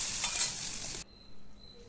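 Hot tempering with asafoetida is tipped into a peanut and coconut chutney, a loud, close sizzle and stir that cuts off abruptly after about a second, leaving near silence.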